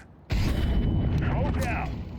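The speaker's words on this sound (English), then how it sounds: "Grenade out. Deploying flashbang." A flashbang grenade goes off in a video game with an abrupt, loud boom that rumbles on and slowly fades, while voices talk over it.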